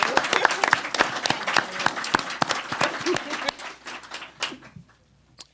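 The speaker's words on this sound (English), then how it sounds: "let's give Keisha a round of applause" Audience gives a round of applause at a mayoral education announcement, crisp individual claps close by and fairly loud, tapering off into scattered final claps.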